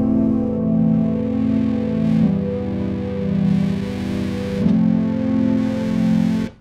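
Keyboard played through a Walrus Audio Janus tremolo/fuzz joystick pedal, loud sustained fuzzy chords with a pulsing, swelling modulation and two chord changes, then an abrupt stop.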